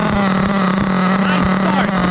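A small nitro engine of a Hobao Hyper SST Truggy 30 runs with a loud, steady buzzing drone, close by, with a person talking over it.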